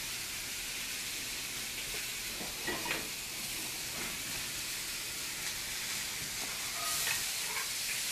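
Sausages frying in a pan give a steady, even sizzle and hiss that runs the whole time, with a few faint clicks and taps from the cooking now and then.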